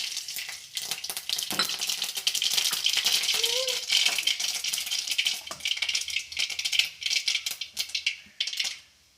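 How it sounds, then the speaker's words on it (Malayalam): Mustard seeds spluttering in hot oil for a tempering over leaves rubbed with salt and turmeric, a dense crackling sizzle that holds steady for several seconds before thinning into scattered pops. "ഇനി കടു താളിച്ച് അതിലോട്ട് ഇട്ട് കൊടുക്കാം കടുക് ഇട്ട് കൊടുക്കാം"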